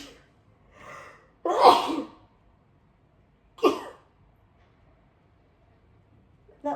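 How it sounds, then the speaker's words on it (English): A person gasps, then lets out a sharp, close sneeze, followed a couple of seconds later by a second shorter burst. "I'm going to sneeze."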